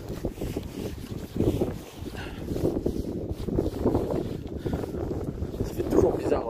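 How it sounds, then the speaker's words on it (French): Strong coastal wind buffets a microphone on a hike at Pen Bron across from Le Croisic, a steady low roaring rumble with gusts running through the whole stretch and swelling again near the end. "il y a un vent de ouf"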